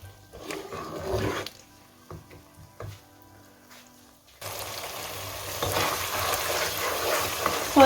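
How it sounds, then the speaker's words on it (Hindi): Spice masala with Kashmiri red chili and a splash of water sizzles and fries in a pan while being stirred, with scraping stirs at first, then a louder steady sizzle for the second half. "और मसाले को अच्छे से भून लेंगे।"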